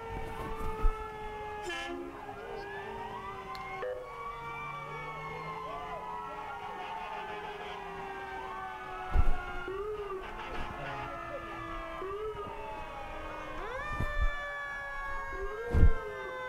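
Several wailing fire engine and ambulance sirens overlap continuously at a St. Patrick's Day parade, rising and falling in pitch, with sharp horn blasts bursting out near the end over steady street noise.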